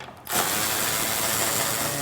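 Steady, close mechanical whir of a power driver backing screws out of a Stella two-stroke scooter, starting abruptly after a quiet moment and running continuously.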